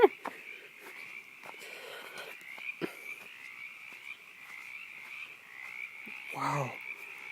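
Frogs croak around a house at night, a dense continuous chorus with sharper individual croaks popping out, fairly loud and close, with a brief voice or noise near the end.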